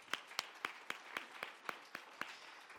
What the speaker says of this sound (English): So please, one more time, a big round of applause for Dr. Nagy and Dr. Coley.